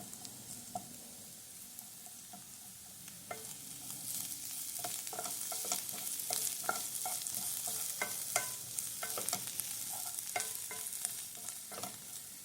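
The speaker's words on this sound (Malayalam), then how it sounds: "നമുക്കിതേക്ക് കുറച്ച് ചതച്ച് വെച്ച മുളക് ഇട്ട് കൊടുക്കാം നല്ല എരിവുള്ളതാണ് അപ്പോൾ കുറച്ച് മതി അതും ഇതിൽ കിടന്നൊന്ന് മൂക്കട്ടെ" Crushed chili fries and sizzles in hot oil in a pan for a cauliflower masala thoran, with steady close hissing and repeated light scrapes and taps from stirring.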